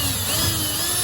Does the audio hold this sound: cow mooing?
no